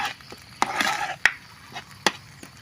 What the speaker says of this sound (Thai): แล้วเราก็ผัด ไปเรื่อยๆนะคะเพื่อนๆ